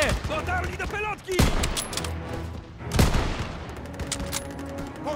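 Gunfire in the World War II shooter Call of Duty: WWII: dense bursts of rifle and machine-gun fire with sharp booms, near and loud, alongside shouted voices throughout.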